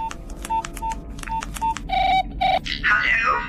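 A telephone number dialed on a keypad in a British sci-fi comedy radio show: a quick run of short, evenly spaced DTMF tones, close and clear, followed by longer tones and a brief ringing burst.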